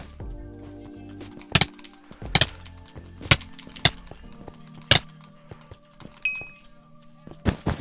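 Wooden blocks breaking in Minecraft Bed Wars, a series of sharp, loud cracks spaced irregularly, some single and some doubled, over steady low game background tones.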